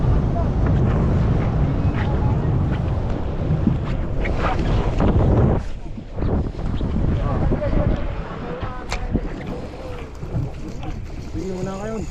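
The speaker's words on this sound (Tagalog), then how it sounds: "Bilis ng bangka." A fishing boat speeds across the sea while angling for king mackerel, with a constant roar of wind buffeting the microphone and rushing water, loud and unbroken, with faint voices underneath.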